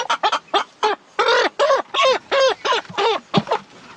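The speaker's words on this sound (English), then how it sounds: "Look at that pretty white chicken." A white chicken lets out a rapid series of loud, close clucks and squawks, about a dozen short bursts in quick succession, with no talking over them.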